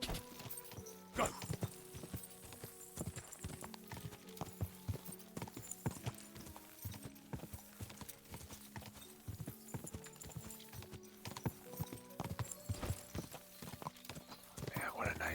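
Horse hooves clip-clop in a steady rhythm in Kingdom Come Deliverance II, close and prominent, with occasional whinnies and a voice talking over the hoofbeats.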